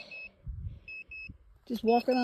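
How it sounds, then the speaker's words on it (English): A Geiger counter's short electronic beeps chirp a few times in quick succession on a uranium mine tailings pile, separated by brief pauses, with low rumbling handling noise and a voice starting to talk at the end. "my Geiger counter just beeps, just walking on the"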